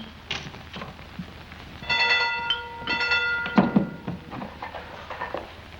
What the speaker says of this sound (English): The train now arriving at platform 3 is the 543 from Ketchworth